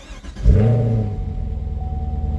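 A 2016 Chevrolet Camaro SS V8 cranks briefly and fires with a loud, close roar, then settles into a deep, steady, slightly lumpy idle rumble with no talk.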